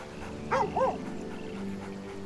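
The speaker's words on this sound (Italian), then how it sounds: "Il cane, vero, Graffio!" Graffio, the dog in Baldur's Gate 3, gives two short barks in quick succession over a low game ambience.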